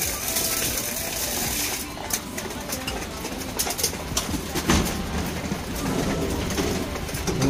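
Racing pigeons coo in a loft in San Nicholas, Pangasinan, soft repeated throaty calls mixed with wing flutters, light scratching and clicking movements close by.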